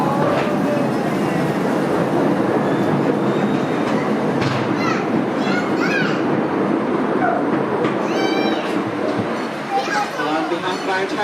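The Irvine Park Railroad train rumbles along with a constant rattling clatter of the cars, while voices talk faintly over the noise.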